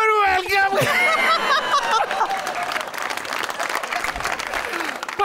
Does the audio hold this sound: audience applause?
yes